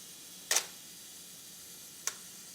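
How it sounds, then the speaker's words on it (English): A Canon FT camera's shutter fires on the self-timer with a crisp mechanical click, then a second fainter click about a second and a half later, against quiet room tone. "the shutter will fire."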